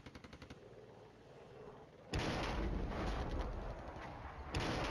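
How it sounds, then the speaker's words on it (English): Artillery fire in the wargame Flashpoint Campaigns Red Storm: a quick rattle of shots opens, then heavy booming barrages roll on loud and sustained, with another burst near the end. "the artillery's smacking hell out of those guys"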